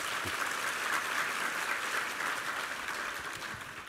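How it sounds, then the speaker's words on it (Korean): A church congregation applauds the choir during a Sunday worship service, a steady, dense wash of clapping that holds evenly and tapers slightly toward the end, with no voices over it. "우리 2부 성가대 한번 힘찬 격려의 박수 부탁합니다."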